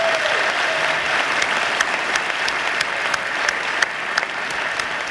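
Steady applause from an audience at a public conversation event with a Supreme Court justice, a continuous dense patter of many hands with a few sharper claps standing out, sustained evenly throughout.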